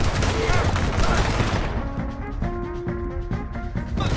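Gunfire in the Red Dead Redemption 2 game, a dense volley of shots over the opening second and a half that thins into scattered bursts beneath a musical score, with shouting voices mixed in.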